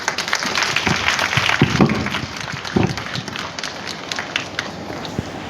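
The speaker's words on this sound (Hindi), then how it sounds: "तालियों से।" Audience applause at a Good Shepherd Public School felicitation ceremony in Ratangarh honouring top-scoring students, a steady patter of many hands filling the hall with a few louder claps standing out.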